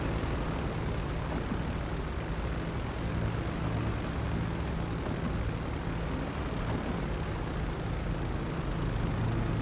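A propeller airplane's engine drones loudly and continuously while flying in GTA 5 Online, with a dense steady roar and low-pitched throb at an unchanging level.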